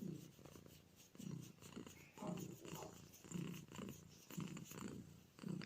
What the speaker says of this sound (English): He's kind of double purring.